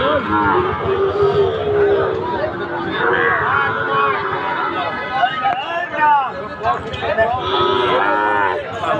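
Sahiwal bull calves moo again and again at a busy cattle market. The loud, overlapping low calls rise over a steady crowd hubbub, with people talking throughout.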